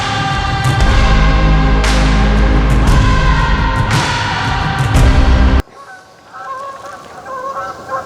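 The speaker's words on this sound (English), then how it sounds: "Well, that's some geese." A flock of geese honks loudly and continuously at close range for about five seconds, then the calls drop away abruptly to fainter, more distant honking.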